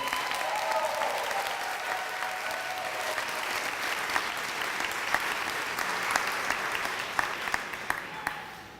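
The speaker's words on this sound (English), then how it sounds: "So can we applaud for them?" A graduation audience applauds the Parsons class of 2017 associate degree graduates in fashion design and fashion marketing, steady dense clapping from a large crowd that continues throughout with a few sharper individual claps standing out.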